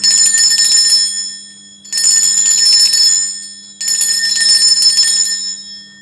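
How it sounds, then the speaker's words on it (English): A bell rung to cleanse a space sounds three times, each bright, shimmering ring lingering about two seconds before fading, close and with no talking. "I'm going to ring a bell here just to cleanse the space around for us."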